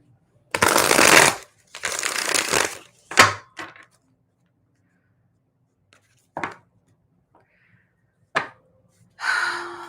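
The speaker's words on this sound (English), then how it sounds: "let me shuffle because I like to clear the energy" Tarot cards shuffled in a few quick riffling bursts up close, followed by soft taps and card handling between pauses.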